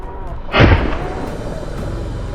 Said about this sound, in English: One shot clean kill.